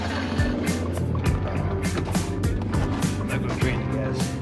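A 1930 Model A Ford engine idles with a low, steady rumble and a rhythmic pulsing, close and loud, while people talk over it.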